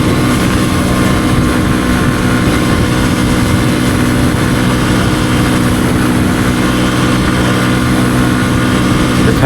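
A Kawasaki KLX dirt bike cruises down a mountain highway, its engine droning steadily and loudly throughout, mixed with broadband wind rush.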